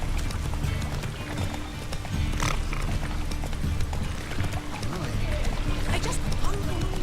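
A horse gallops in the video game The Witcher 3, its rapid clip-clopping hooves running steadily under game music and ambience while someone talks over it.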